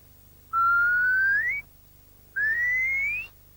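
Two rising whistled calls, each about a second long with a short pause between, a person imitating a curlew's cry.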